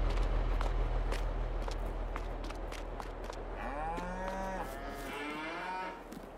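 Cows mooing in the farming game Farming Simulator 22, with a couple of drawn-out moos over low ambient rumble and footstep-like clicks, and no talk.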